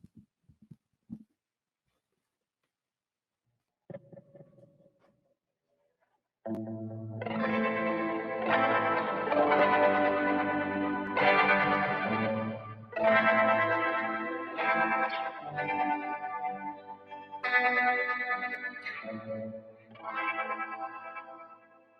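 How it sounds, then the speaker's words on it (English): Electric guitar chords ring out through heavy effects, chorus, echo and some distortion, strummed loud and sustained after a few quiet taps. "I've also got my guitar plugged in, so I'll just trim a few chords there so you can hear how that sounds"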